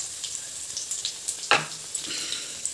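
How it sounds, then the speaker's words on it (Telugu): Peanuts fry in oil alongside onions for a Jagtial-style poha dish, a soft continuous sizzle marked by light stirring scrapes and one sharper clatter midway, close and without speech. "పల్లీలు వేసి మంచిగా ఫ్రై కావాలి"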